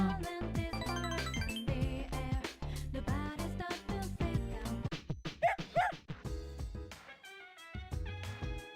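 Koromaru, a dog in the video game Persona 3 Portable, gives a series of short yips and barks over the game's steady background music, with a brief pause near the end.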